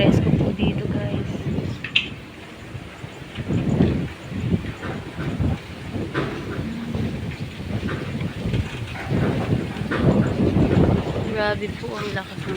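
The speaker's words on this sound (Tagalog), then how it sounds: "Sobrang hangin, sobrang lakas, grabe." Gusty wind rumbles and roars against the microphone throughout, rising and falling, while someone speaks in Filipino in bursts over it.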